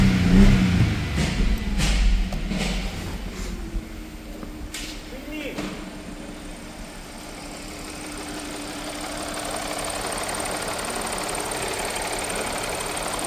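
An Audi A6 30 TFSI petrol engine, flagged with misfire on cylinders 1 and 4 and rough running, turns over and settles into a steady idle, heard up close with a brief burst of starter clatter at the beginning.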